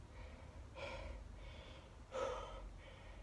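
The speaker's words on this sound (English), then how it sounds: "You hear my breathing." Heavy, labored breathing inside a hot vehicle during extreme heat, with two louder gasping breaths separated by quieter exhales, close to the microphone and with no talking.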